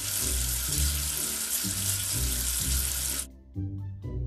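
Running water rinses soap off a letter in a children's alphabet game, a loud steady tap-like gush over a music bed that cuts out near the end, leaving the tune alone.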